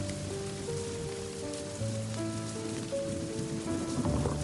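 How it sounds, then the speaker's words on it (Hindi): Heavy monsoon downpour in a 2D animated scene at a rural ashram, a steady loud wash of rain hissing on surfaces throughout, with layered tonal music running underneath and no talk. "मूसलाधार बारिश ने तो आश्रम की आखिरी चिंगारी तक बुझा दी।"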